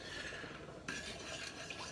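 Soft scraping and clinking of a utensil stirring olive oil in a frying pan, quiet and close, with a brief louder scrape midway.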